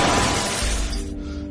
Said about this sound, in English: The sound of shattering glass pierced through my skull like a blade.